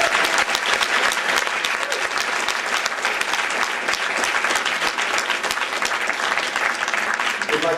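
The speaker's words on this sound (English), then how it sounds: "Would you please give a round of applause for Mr." Loud, sustained applause from a symposium audience fills the whole stretch, dense, even clapping with no breaks.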